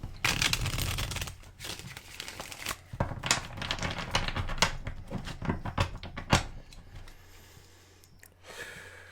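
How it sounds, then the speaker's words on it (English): Tarot cards are shuffled by hand in a series of close, crisp riffles and slaps, irregular bursts over several seconds with a faint low hum beneath. "Hit a couple more shuffles."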